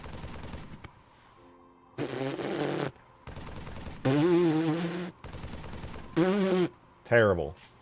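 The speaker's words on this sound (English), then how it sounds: "Halo 3 assault rifle." Halo 3 assault rifle in the Halo video game fires several short, loud automatic bursts separated by brief gaps, the last bursts carrying a tonal, whining edge.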